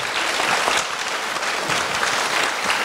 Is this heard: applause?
yes